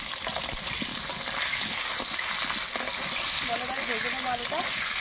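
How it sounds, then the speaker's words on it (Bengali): Potato pieces frying in hot oil in a pan, a continuous loud sizzle and hiss that fills the whole stretch, with faint background voices. "এবারটা আলুটা ভেজে নিচ্ছি"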